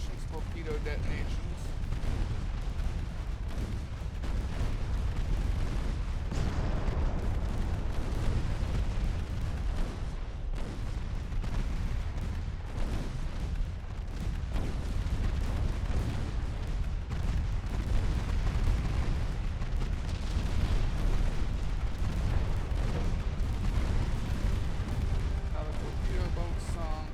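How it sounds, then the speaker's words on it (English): Torpedo detonations in the naval warfare game Ultimate Admiral Dreadnoughts: a steady barrage of deep booms and rumbling blasts, loud and sustained with no real pauses, as a voice talks over them. "Torpedo detonations."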